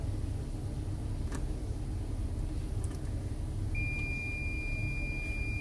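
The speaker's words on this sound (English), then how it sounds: "So I have the meter on beep mode." A multimeter's steady continuity beep sounds near the end while checking a fuse on an air conditioner control board, clear and continuous, over a low background hum; no one speaks.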